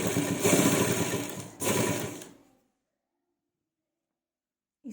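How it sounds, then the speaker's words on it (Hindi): Sewing machine running steadily for about two seconds while stitching a round neckline, a brief pause, then another short burst before it stops, followed by silence and a faint click at the end; close and fairly loud. "इस तरह से हम गले के बिल्कुल पास पास से एक सिलाई लगाएंगे।"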